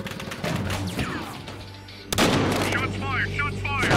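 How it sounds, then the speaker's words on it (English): Gunfire and heavy shots ring out in the video game Battlefield: Hardline, a loud burst of blasts after a quieter stretch with voices talking over the action. "Shots fired!"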